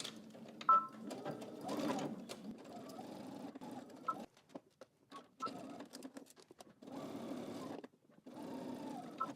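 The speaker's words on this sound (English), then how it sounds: "we're going to stitch our side seams while we're at the machine" A sewing machine runs in bursts, stitching the side seams of a dress at 5/8 inch allowance; the close, quiet whirring starts and stops several times with short pauses between runs.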